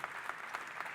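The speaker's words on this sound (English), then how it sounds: "have a big round of applause" Audience applause fills the room at the close of a day of learning: dense, steady clapping with a few sharper, louder swells, heard on its own without voices.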